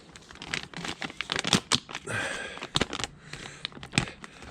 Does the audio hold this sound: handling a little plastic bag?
yes